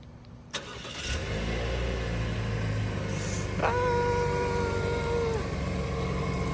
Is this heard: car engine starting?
yes